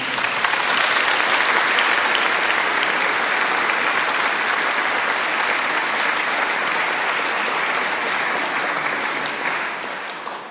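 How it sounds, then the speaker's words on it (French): A Mass congregation applauds one another, a dense sustained wash of many hands clapping that holds steady and loud throughout before easing slightly at the end. "je propose même qu'on s'applaudisse les uns les autres parce que nous le méritons"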